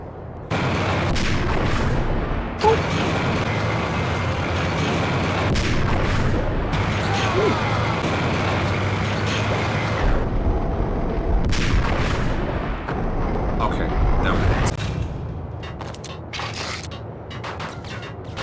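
Heavy gunshots in the video game Max Payne, with loud booming blasts and stretches of dense firing broken by brief pauses, plus creaking mechanical game noise between volleys.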